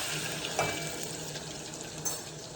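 Mustard seeds and cumin sizzle in hot oil, a dense, continuous hiss close by with a couple of brief pops and crackles, heard alone without talk.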